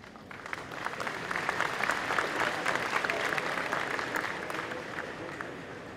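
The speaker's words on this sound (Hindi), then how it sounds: "बहुत कम तालियां बजी।" Audience applause during a speech at the National Ayurveda Summit 2014 at Mahatma Mandir, a crowd's clapping swelling in after a quiet start and holding steady, loud and close, before easing slightly.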